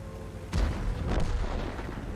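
Two heavy booming shots from the Type 71 tank in a tank game, the first loud blast followed by a second about half a second later, with rumbling decay.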